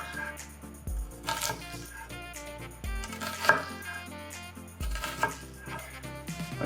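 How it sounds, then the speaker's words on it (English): A kitchen knife slices slowly through an onion on a cutting board, making three distinct dull thuds spaced a couple of seconds apart against light clicks and faint background music. "take your knives, the tip of the knife, slice it down"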